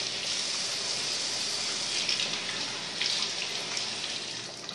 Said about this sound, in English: Just take it, run it under some cold water for a little while.